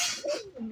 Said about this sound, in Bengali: আমার এই যে টেডি কবুতরগুলো